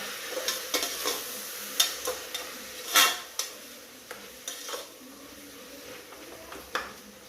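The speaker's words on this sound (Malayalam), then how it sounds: "ഇതെല്ലാം ഒന്നിച്ചിട്ടിട്ട് വഴറ്റുക" Tomato mixture with curry leaves and coriander being sautéed in a pan for a beef dish: a soft steady sizzle under repeated sharp scrapes and clinks of a spoon against the pan, with one louder clatter midway.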